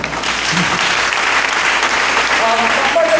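Congregation in a church clapping steadily and loudly throughout, a dense sustained round of applause with faint tonal sounds near the end.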